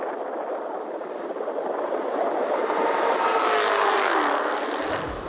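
A Chevrolet Corvette ZR1 engine roars, building from a moderate rumble to a louder, rising pass before easing off, heard from a short distance outdoors with no voices.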